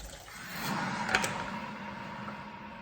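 Tap water runs steadily into a container of tamarind in a home kitchen, a soft, even hiss with a faint rise in the middle, close by and alone without talk.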